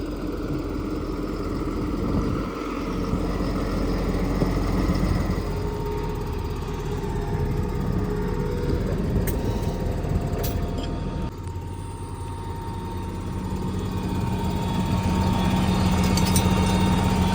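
A heavy diesel tractor engine runs steadily nearby while pulling a 13-tonne load, a deep continuous rumble with slight shifts in pitch as it works.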